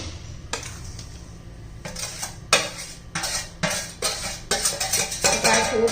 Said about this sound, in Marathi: आता हे सर्व साहित्य आपण मिक्स करून घेणार आहोत